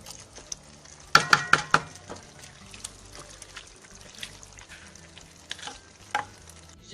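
Chicken and onions fry in a pan for Palestinian musakhan. A low, steady sizzle runs throughout, and a quick burst of sharp clinks and stirring noises comes near the start.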